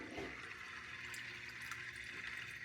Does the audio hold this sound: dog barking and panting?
no